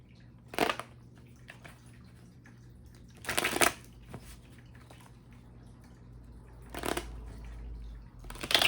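A deck of cards being shuffled during a tarot-style reading, in three quick riffling bursts spaced a few seconds apart against a quiet, low room hum.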